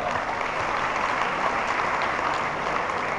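Steady audience applause during a ministerial speech at an ICT awards evening in Indonesia; a dense, even wash of clapping from a large crowd, sustained without a break.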